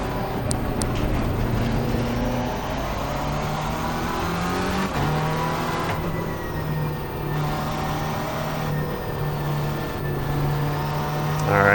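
Race car engine droning steadily on an out lap in the racing game Assetto Corsa Competizione, a continuous loud tone rising and dropping slightly with gear shifts over the whole stretch, with no talk.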